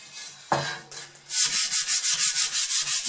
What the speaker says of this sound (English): All the wooden handle tools out. Give them a quick wipe off with a bit of sandpaper.